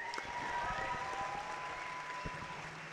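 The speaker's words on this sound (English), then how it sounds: "one more round of applause for Kaiser Rosen." A live audience claps in steady, continuous applause at an event, a dense, fairly distant patter of hands that fills the whole moment without any voices.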